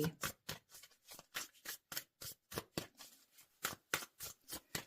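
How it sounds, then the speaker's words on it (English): Tarot cards shuffled by hand in a rapid, steady run of crisp riffling bursts, close and fairly quiet, with no voices. "I'm shuffling this deck well"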